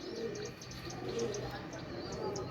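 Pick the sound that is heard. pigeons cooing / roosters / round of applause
pigeons cooing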